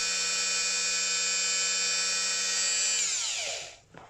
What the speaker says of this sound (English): So you can see straight away more, I can feel the torque of the motor more. The motor's running a lot quieter as well